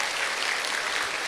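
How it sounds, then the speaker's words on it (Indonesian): A university hall audience applauds the makers of a just-shown video, a brief continuous wash of many hands clapping together at steady, moderate loudness. "kasih tepuk tangan tuh yang bikin videonya ya"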